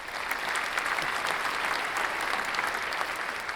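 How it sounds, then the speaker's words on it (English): Sustained applause for graduates at a virtual fall graduation ceremony, a steady dense wash of clapping from many hands holding at an even level throughout with no talk. "Please join me one more time in a very loud, very virtual round of applause for all of our graduates"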